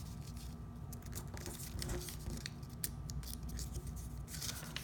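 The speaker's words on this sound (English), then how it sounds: "Fold these corners into the center." Paper being folded into origami Yoda, with soft crinkling, sliding and snipping-like crisp sounds from the sheet handled close by, steady and quiet, with no talking.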